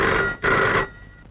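A telephone rings in two close bursts of electronic bell tone, the second cut short, in an indoor scene with no voices during the ring.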